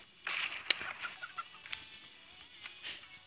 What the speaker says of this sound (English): it makes chicken noises.